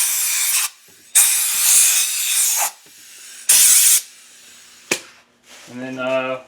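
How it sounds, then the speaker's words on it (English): Compressed air blasts out the cylinder walls of a Subaru EJ engine during a head gasket job: four loud, close hissing bursts of varying length, the last very short, followed by a brief voice. "You can also use compressed air to blow out the cylinder walls."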